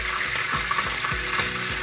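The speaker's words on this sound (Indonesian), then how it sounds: "Ikan tuh kalau digoreng kayak gitu ya, suka meletup-letup." Milkfish fries in hot oil over low heat, a steady close sizzle with scattered small pops and crackles throughout.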